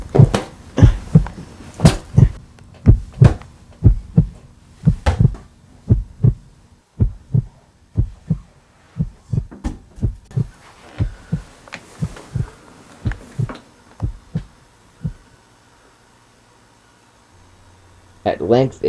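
Steady, repeated heartbeat thumps in a dramatized Tell-Tale Heart short film, loud and rhythmic, slowing and thinning toward the end before near silence, with a brief sound at the close.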